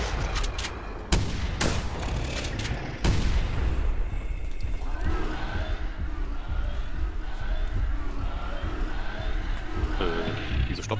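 Gunfire aimed at a charging T-Rex in The Hunter Primal, with sharp shots loudest in the first three seconds, then a dense rumbling battle din of further shots and creature noise filling the rest.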